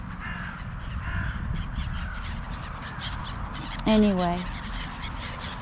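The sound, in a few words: crows cawing at evening feeding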